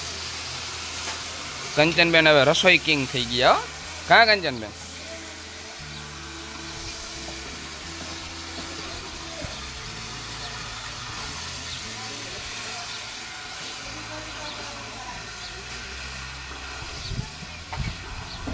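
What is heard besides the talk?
sizzling vaghar (tempering) for a mixed vegetable curry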